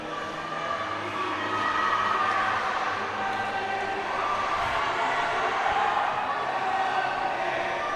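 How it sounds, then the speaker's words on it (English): A crowd at a U19 bouldering qualification competition cheers for a climber, a steady broad roar of many distant voices throughout, with a commentator talking over it. "we are hearing the crowd probably cheering up for Sofia"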